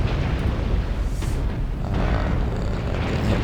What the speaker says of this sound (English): I'm getting hit with artillery.